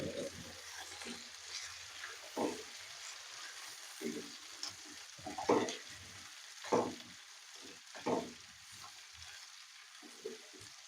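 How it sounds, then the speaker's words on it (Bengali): Potatoes fry in oil in a wok as they are cooked first for a pumpkin dish. A soft, steady sizzle is broken by repeated stirring scrapes, close and fairly quiet. "সেজন্য আগে আলুটা একটু ভেজে নিলাম।"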